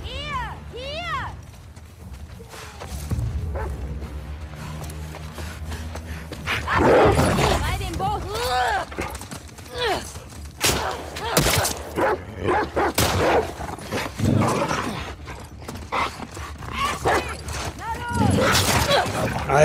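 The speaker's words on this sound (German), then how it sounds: "Alter, dieser Hund!" A dog in The Last of Us Part 2 barks, yips and whimpers in loud repeated bursts amid game effects and music, while someone talks over much of it.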